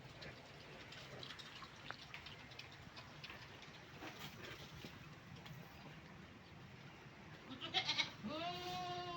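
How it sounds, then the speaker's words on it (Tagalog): Goats on a small farm beside a creek, with a faint bleat rising near the end over low outdoor background noise and scattered rustling. "Dito pa yung mga kambing ko."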